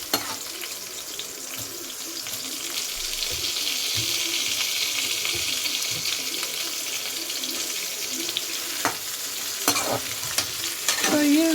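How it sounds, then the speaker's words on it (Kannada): Onions and chicken fry in oil in a pan with a steady, close sizzle that builds slowly, and a few clinks and scrapes from stirring near the end. "ಈ ಸೈಡು ಚಿಕನ್ನು ಎಣ್ಣೆಯಲ್ಲಿ ಚೆನ್ನಾಗಿ ಫ್ರೈ ಆಗ್ತಾ ಇದೆ"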